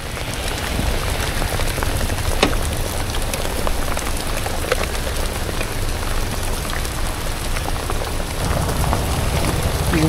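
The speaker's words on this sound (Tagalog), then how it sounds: "At habang papunta kami ng SM, ganto kalakas ang ulan." Heavy rain pours down on the way to a mall in Baguio, a loud, unbroken roar of water with scattered sharper drop impacts close by and no voices.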